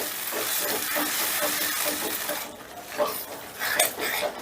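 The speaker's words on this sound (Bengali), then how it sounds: "এবারে এই মশলাটাকে 3-4 মিনিটের মতন বেশ ভালো করে কষে নেব।" Tomato paste masala fries in a pan, a continuous bright sizzling hiss with a few soft clinks of utensils, close and without talk.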